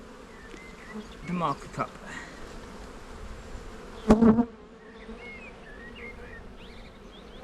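Honey bees buzz steadily around an open hive during a colony inspection, a soft continuous hum with a louder burst near the middle as a person speaks briefly nearby.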